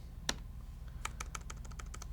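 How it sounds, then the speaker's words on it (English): Keys tapped on a computer keyboard while entering a task title in a to-do list app, one isolated click followed by a quick, steady run of about ten light keystrokes, close and clear over a low hum. "when I click in here, I can start typing."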